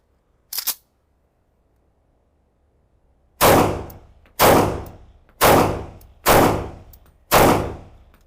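A Tanfoglio Stock II pistol fires five loud, sharp gunshots in a fairly even sequence about a second apart, each with a short ringing decay, after a brief metallic click and a few seconds of quiet.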